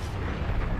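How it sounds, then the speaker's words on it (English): Deep, rumbling blasts from mortar titan rockets striking in Titanfall 2 Frontier Defense mode, a dense continuous low roar of explosions filling the short moment at steady loudness. "there are mortar titans launching rockets at the harvester"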